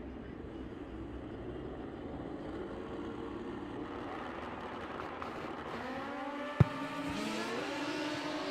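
A Super Comp drag racing car accelerates hard down the right lane at a drag strip, its engine a loud continuous roar climbing in pitch toward the end, over steady crowd and track ambience.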